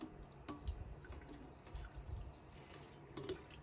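Warm water runs and splashes steadily from a tap into a container, with occasional drips and clinks, fairly close and continuous.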